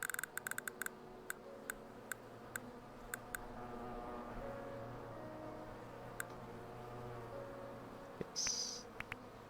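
Soft, continuous insect buzzing from the bee-colony game Hive Time, a low droning hum under a scattering of sharp interface clicks and ticks, with a brief bright chime near the end.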